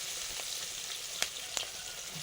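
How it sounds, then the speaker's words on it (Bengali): Chikni greens and mustard greens frying with onion, a soft continuous sizzle with two sharp clicks of a spatula against the pan, no talking. "চিকনি শাক আর ওই সর্ষে শাক ছিল, একসঙ্গে ভাজা হচ্ছে।"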